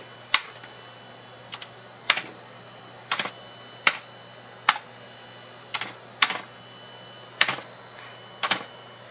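A faulty Commodore 64 keyboard is typed on in sparse single and paired key clacks, crisp and close, spaced irregularly over a quiet room hum, with no speech.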